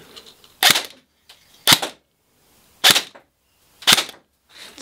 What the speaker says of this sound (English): let's just start off with the single shot